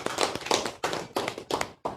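A class of students in an Indonesian Islamic studies lesson gives a classmate a quick round of clapping, a rhythmic run of group claps in short bursts with small gaps between them, near and moderately quiet.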